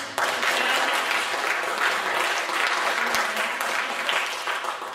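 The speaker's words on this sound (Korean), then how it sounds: "우리 다 같이 한번 환영하는 큰 박수" A church congregation applauds to welcome the pastor during a Korean worship service, a full, even burst of clapping that starts abruptly and holds steady.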